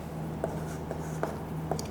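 A marker or chalk writing on a board during a maths lesson gives soft, scratchy strokes in a steady rhythm, about four short taps and scrapes, fairly faint over a low room hum, with no talking.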